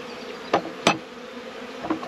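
Honey bees fly around an opened hive whose queen is laying drones, a steady close buzzing with a few louder whooshes as single bees pass near.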